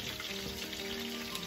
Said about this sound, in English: If you hear something popping, that's my chicken frying.